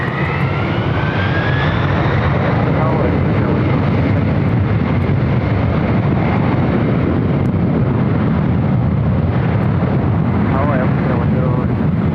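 A Delta airliner taking off from runway 24 Left at LAX, a loud continuous jet engine roar rising in pitch, with a voice speaking over it.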